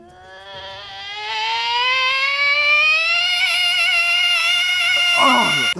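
A person imitates a whistling tea kettle with a single sustained, shrill voiced whistle. The pitch slides steadily upward as it gets louder, holds near the top, then breaks off at the end, close and alone.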